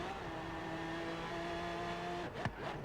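A car engine in the racing game Forza Horizon 3 holds a steady loud drone at high revs, then shifts abruptly near the end with a rough burst of changing pitch, with no talking.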